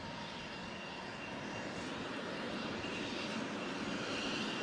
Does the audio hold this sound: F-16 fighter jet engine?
yes